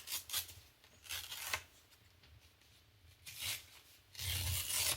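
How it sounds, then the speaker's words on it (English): Stamped black cardstock is torn in a few short, rasping rips close by, with a longer tearing pull at the end, no talking. "Now I'm going to tear just a section out of this one."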